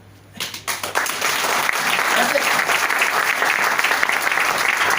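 Loud, sustained applause from a large audience at a live event, swelling within the first second and holding steady as a dense wash of clapping.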